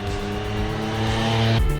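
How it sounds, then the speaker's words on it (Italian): A Triumph Street Triple 765 R three-cylinder motorcycle engine, 2021 model, drones steadily under load, its tone climbing in pitch before cutting off abruptly near the end; loud and close, with no voices. "Il motore 3 cilindri è sempre stato per me un riferimento per le moto di media cilindrata."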